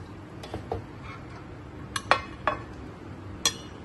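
Dishes and utensils clink sharply while Chinese-style biryani is served, a handful of scattered bright metallic and ceramic taps, clustered toward the middle and end, against a quiet kitchen background.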